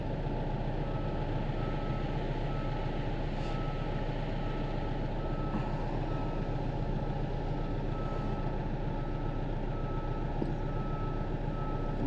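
A vehicle engine idles up steadily after the air conditioning is switched on, a constant close, low rumble with faint tonal whine running unbroken throughout, no voices.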